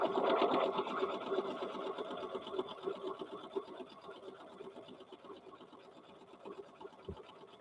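A sewing machine stitches fabric for a toy bear in a fast, even, buzzing rhythm that gradually eases off before a soft thump near the end.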